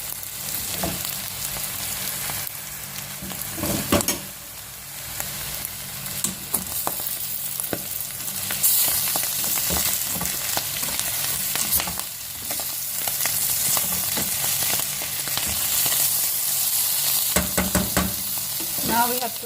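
Tomato sauce for pasta stirred around a hot pan, a loud continuous sizzle and crackle broken by repeated spoon scrapes and knocks against the metal over about twenty seconds, close up with no talking.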